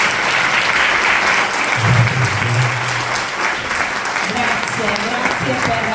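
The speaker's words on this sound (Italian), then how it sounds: "Un grande applauso a Pier Giorgio Pulici." Audience applause at a book presentation in Cagliari, a dense, steady clapping that fills the whole stretch, with a voice briefly speaking over it partway through.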